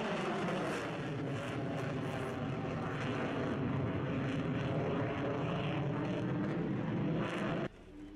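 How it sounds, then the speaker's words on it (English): A Royal Danish Air Force F-16AM Fighting Falcon of 727 Squadron touches down with a loud, steady jet roar that holds close for several seconds and then drops off sharply near the end. "touching down, Captain Troels Deli of 727 Squadron, Royal Danish Air Force with the F-16AM Fighting Falcon"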